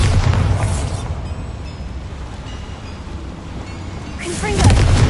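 A spell blast in a wizard video game gives a broad, rumbling explosion that surges loudly at the start, settles into a sustained roar and swells again at the end, while a voice speaks over it.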